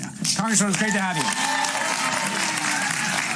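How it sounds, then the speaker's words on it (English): Studio audience applause on a late-night talk show greeting a congresswoman, a broad hiss of clapping that swells and holds while someone speaks a short greeting over it at the start. "Rousing applause."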